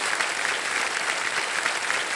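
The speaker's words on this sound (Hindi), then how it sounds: "जोरदार तालियां बज जाए इनके लिए।" Steady applause from a television quiz show studio audience, welcoming a contestant from Buldhana, Maharashtra to the hot seat; dense, even clapping fills the whole stretch with no voices over it.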